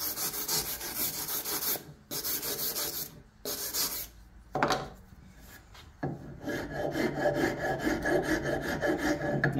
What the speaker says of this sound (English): this is a fairly fine rasp, so it does clog up pretty quickly